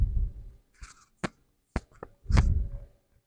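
Scissors snip through satin fabric while a hair bonnet is cut out, a few separate crisp cuts spaced with short pauses, close and fairly quiet, with no talking.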